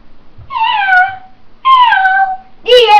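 Drawn-out meows, probably sung or imitated by a voice, make up a Turkish children's farm song about cats: two long falling meows, then the start of a third, loud and close.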